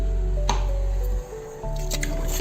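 Spiced water pours and squishes into a pressure cooker of eggplant with a few drips, steady and close, briefly dipping in the middle before resuming.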